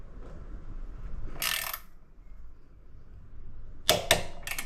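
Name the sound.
torque wrench tightening motorcycle crash bar bolts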